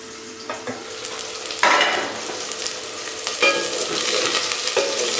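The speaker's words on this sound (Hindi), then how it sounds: "अब मैं इसमें ये करेले डाल दूँगी और इनको फ्राई कर लूँगी" Sliced bitter gourd fries in hot oil over a medium flame, crackling and hissing with bursts of spatter and a few scrapes of a spoon stirring, close and moderately loud with no talking.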